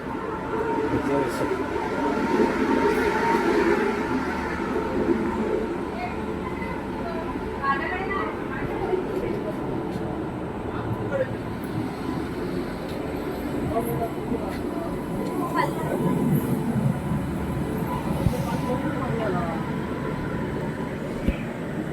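Konkan Railway passenger train running between Sawantwadi and Thane, a steady low rumble and rattle of wheels on track throughout, with voices talking over it.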